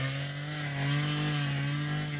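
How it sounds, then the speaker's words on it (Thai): A motorized earth auger drilling post holes for a snake gourd planting plot, a loud continuous engine drone close by, steady with a slight rise in the middle. "เดี๋ยวเครื่องเจาะกันนะ"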